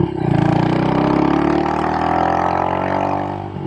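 A modified Royal Enfield Hunter 350 motorcycle with an aftermarket exhaust running close by, a steady, throaty engine drone holding for a few seconds as the pitch rises slightly, then easing off.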